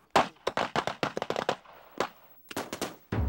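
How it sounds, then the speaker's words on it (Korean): Matchlock muskets fire in rapid bursts as the gunpowder explodes, a string of sharp cracks in uneven clusters followed by a few scattered shots and a deeper boom at the end, fairly close. "방아쇠를 당기면 점화가 되면서 화약이 폭발, 탄환이 발사된다."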